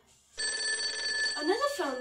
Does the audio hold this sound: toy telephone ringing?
yes